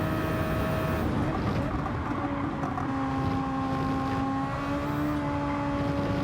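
Super Formula race car in Gran Turismo 7 at Spa-Francorchamps, engine droning steadily at high revs along the straight with rising whine and constant wind-like rush, no voices.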